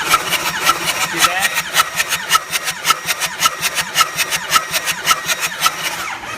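An engine runs with cylinder number 6 blowing out, giving a loud, close, rapid rhythmic chuffing and puffing pulse that repeats evenly throughout, with no voices.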